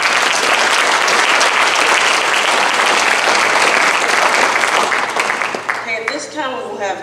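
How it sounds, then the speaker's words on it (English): An audience at a school kindness event bursts into loud, sustained applause that gradually thins and fades near the end, where a voice begins speaking over the tail. "Let's give her another round of applause."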